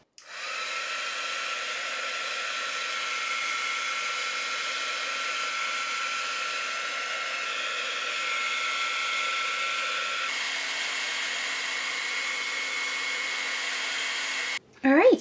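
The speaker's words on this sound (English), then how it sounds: "I like to use my heat gun to cure oven-baked clay" Heat gun blowing hot air to cure oven-baked clay on a doll, a steady even whir running continuously for about fourteen seconds, then cutting off abruptly.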